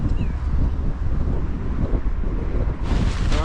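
Strong wind buffeting an outdoor bikepacking camp as shelters dry out, a loud, close, rumbling roar with gusty low-end microphone blasts throughout.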